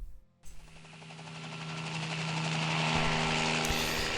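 Three helicopters ready for launch in the naval wargame Harpoon Classic '97. Rotor and engine noise swells from a soft start into a loud, steady, throbbing roar over a few seconds.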